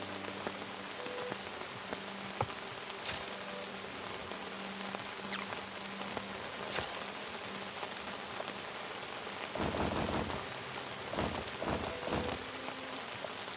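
Rain falls steadily outdoors on a trip heading back toward the mountains, making a dense, even patter with scattered sharper drops and a heavier burst of drumming near the end, with no voices.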